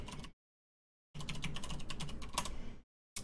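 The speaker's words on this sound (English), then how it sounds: "I got to type in my password" Password typed on a computer keyboard: a fast run of crisp key clicks lasting about a second and a half, with a short burst of keys before and after, close and alone with no talk.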